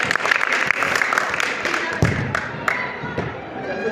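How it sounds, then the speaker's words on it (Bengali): Players applaud at a farewell reception, a moderate scattered round of clapping with a few sharp louder claps and thumps standing out, crowd murmur underneath, lasting about four seconds. "আমার মনে হয় একটা করতালি প্রয়োজন খেলোয়াড়দের কাছ থেকে"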